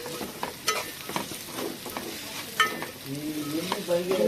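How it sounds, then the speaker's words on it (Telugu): Semolina roasting in a pan for upma, with repeated scraping strokes of stirring over a low continuous frying hiss, close and moderately loud. "ఒక 5 నిమిషాలు వేపుదాం. వేపితే రవ్వ బాగుంటుంది అన్నమాట."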